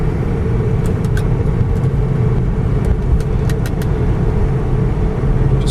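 A 1999 Ford Crown Victoria LX accelerates with a steady, smooth engine hum and road rumble from inside the cabin, loud and unbroken throughout, with faint ticks over the drone.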